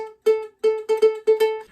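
Ukulele picking a short phrase, a handful of bright plucked notes in an uneven quick rhythm, close and clear with no voice.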